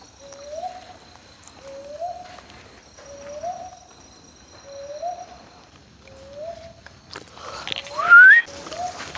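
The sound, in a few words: bird calling at night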